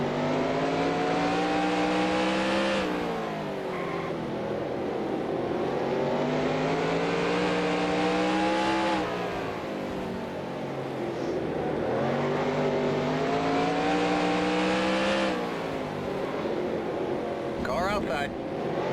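Several NASCAR race cars in NASCAR Racing 2003 on an oval track, loud continuous engine roar with pitch rising through each lap and repeated sweeps as cars run close together, one after another.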